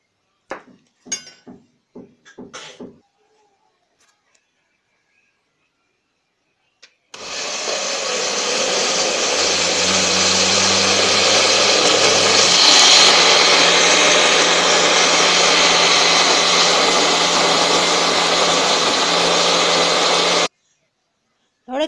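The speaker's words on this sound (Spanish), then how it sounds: "todo esto lo vamos a licuar" A blender whirs loudly for about thirteen seconds as it purees oats and water, starting abruptly and stopping sharply, with brief clinks and a voice before it begins.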